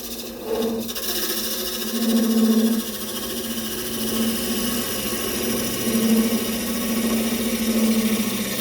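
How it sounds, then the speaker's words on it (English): A wood lathe makes a planing cut on maple with a skew-style chisel, giving a steady whirring hum with a soft, even scraping of the tool on the spinning wood, swelling slightly several times. "Basically a planing cut, similar to using a planing cut with your skew chisel."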